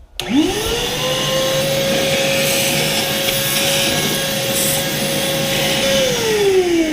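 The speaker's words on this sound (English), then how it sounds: "I'm going to get out my little shop vac real quick." A shop vacuum cleaning the top of the engine on a 2007 Suzuki GSX-R1000 motorcycle whirs up to a steady loud whine, runs continuously for several seconds, then its pitch drops slightly near the end.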